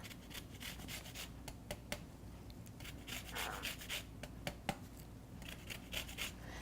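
A lemon being zested on a grater, quick repeated rasping scrapes in an irregular rhythm, close and fairly quiet, with no talk over it.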